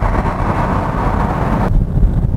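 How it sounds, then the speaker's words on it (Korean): Steady loud rush of wind and road noise inside a moving Hyundai Sonata 1.6 turbo with the window down; the hiss suddenly dulls near the end as the window closes. "창문을 내렸을 때의 소음은 이 정도가 나옵니다."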